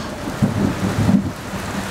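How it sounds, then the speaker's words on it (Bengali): Heavy rain pours steadily as a storm sound effect in a Bengali audio drama, with low thunder rumbling and swelling under the continuous hiss; no voices. "মুষলধারে বৃষ্টি নেমেছে।"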